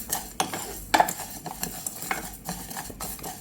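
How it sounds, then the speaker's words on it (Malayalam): Mustard seeds splutter in hot oil, crackling and spitting with repeated sharp pops, mixed with spoon-on-pan clinks, close up and with no voices. "ഇതാ പൊട്ടി വരുന്നൊരു സൗണ്ട് കേൾക്കുന്നുണ്ട്"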